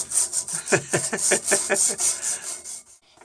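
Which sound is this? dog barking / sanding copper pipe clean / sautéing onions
sanding copper pipe clean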